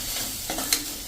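Cumin and Kashmiri red chili stirred and fried in hot oil in a pan, a steady close sizzle with a soft scrape of the spoon partway through, no speech.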